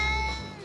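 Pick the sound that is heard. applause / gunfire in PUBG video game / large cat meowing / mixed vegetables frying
large cat meowing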